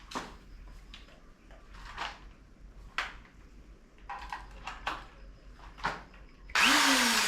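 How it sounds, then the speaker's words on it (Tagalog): A power drill runs off a newly tapped breaker panel circuit. Scattered short clicks and bursts lead up to a loud, steady whir that kicks in near the end. "ngayon ay ititest natin gamit itong uh, drill natin kung ito ba ay gumana"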